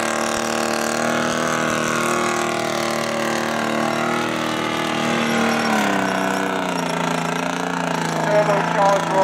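The turbocharged Rolls-Royce engine of a British Abbot military vehicle runs steadily at close range, a loud continuous droning rumble that shifts slightly in pitch partway through.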